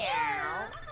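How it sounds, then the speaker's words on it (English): A cartoonish meow from Luigi in a cat suit in Super Mario 3D World, a single drawn-out, sliding cry lasting about a second over faint game background sound. "Luigi has the creepiest meow."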